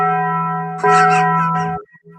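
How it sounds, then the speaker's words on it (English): A tolling bell sound effect for the Toll the Dead spell rings out in a single sustained, resonant strike with long humming overtones, joined by a second brighter layered tone before cutting off abruptly. "Bell noises aside."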